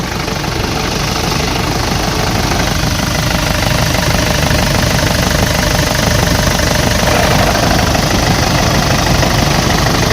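A 2006 Nissan Frontier King Cab pickup with an intercooler idles steadily under an open hood, a loud, continuous close-up engine drone with no speech.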